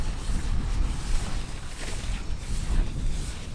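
Gusty wind roars against the microphone at a Wyoming fossil dig site, a dense continuous rush with gentle swells and no talking.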